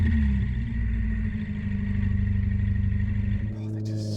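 Ferrari F8 Tributo with a Novitec exhaust driving, a low rumbling engine note heard from inside the cabin, steady and moderately loud before easing near the end, with people talking over it.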